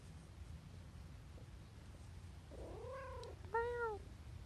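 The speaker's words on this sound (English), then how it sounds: "This cat is just so happy." A cat gives two short meows, close but soft, over a low background hum.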